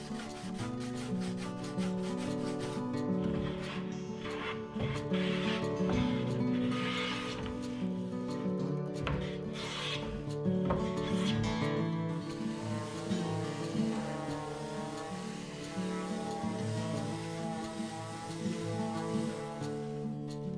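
Ash wood hand wash counter being sanded by hand along its inner curves, with steady repeated rubbing strokes close up, continuous for most of the stretch over a tonal background.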